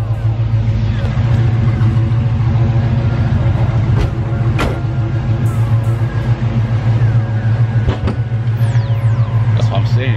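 A Monte Carlo's brand-new engine with new headers idles loudly up close, a steady deep rumbling burble that holds throughout with small rhythmic pulses, and people talk over it now and then.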